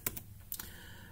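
A movie title is typed on a computer keyboard, producing two quick bursts of crisp key clicks, close and clear, with no one speaking.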